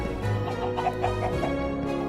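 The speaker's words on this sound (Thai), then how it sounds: "อยู่กับไก่พวกเนี้ย" Chickens clucking close by, a quick run of short, throaty clucks in uneven rhythm over about two seconds, with no talk over them.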